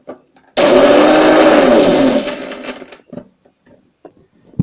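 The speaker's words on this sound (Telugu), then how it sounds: "ఇప్పుడు పచ్చిమిరపకాయలు మిక్సీ వేసుకోవాలి." A mixer grinder whirs loudly as it grinds green chillies for a breakfast recipe. It runs in one short burst of about one and a half seconds, winds down, and is followed by faint handling clicks.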